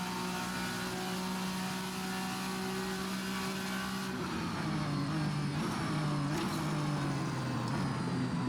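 VRC Vendetta V60 race car in Assetto Corsa, the engine droning steadily at high revs, then dropping pitch with shifts and wavering as it brakes and re-accelerates, loud and close with no talk.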